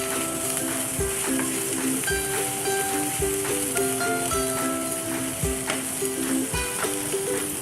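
Cabbage stir-frying with carrot in a pan for sausage fried rice: a dense, steady sizzle punctuated by regular spatula scrapes and taps about once a second, with melodic music underneath.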